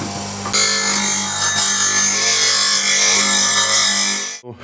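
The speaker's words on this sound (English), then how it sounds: "just have to sharpen it a little bit more" A skew chisel held against a running sharpening grinder, giving a loud steady grinding whine with a bright ringing edge that holds for about four seconds and then cuts off abruptly.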